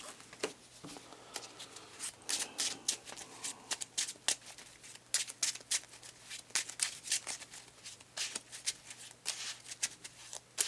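Playing cards for the Marvel Champions card game are shuffled by hand in a quiet room, a long run of crisp riffling bursts and soft flicks repeating at an uneven rhythm, close and clear with no talking.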